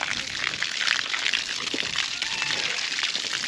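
Pigs lie and shift around in a muddy farm wallow after breakfast, giving a close, continuous sloshing and gushing of muddy water with no pause.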